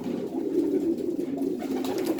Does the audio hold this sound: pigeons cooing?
yes